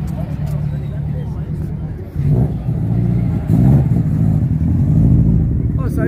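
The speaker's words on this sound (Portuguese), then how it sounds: "Olha o Subaru subindo" A Subaru car climbs a hill at a Brazilian car meet, its engine revving up loud and steady under constant nearby talk, with the rumble swelling and staying strong through the second half.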